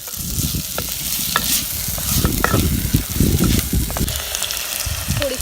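Finely chopped medium onions fry and hiss steadily in a pan for shrimp jawala, with a constant close sizzle and the scrape of stirring throughout.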